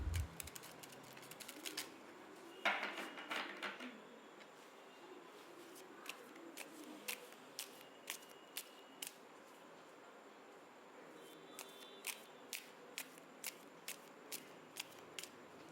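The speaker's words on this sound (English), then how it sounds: "I'm gonna shuffle the cards until I feel the deck is ready" A deck of tarot cards is shuffled by hand in a quiet room, with a brief riffle burst followed by a long series of soft, evenly spaced card taps and flicks, close and faint.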